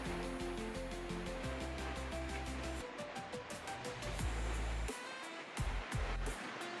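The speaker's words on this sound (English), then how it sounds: "the sound of the waves" Ocean waves at La Gomera washing against the shore by a seaside seating area, a continuous rushing surf with heavier crashing surges toward the end, fairly close and alone.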